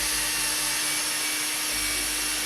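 A handheld drill spins wet sandpaper against a Toyota MR2 Spyder headlight during restoration, giving a steady, close, continuous whirring grind with a constant motor tone and no voices.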